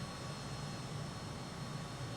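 A MiG-21bis jet in flight in Microsoft Flight Simulator 2020, a steady, even engine roar with a low rumble and broad hiss, constant and unbroken with no voices.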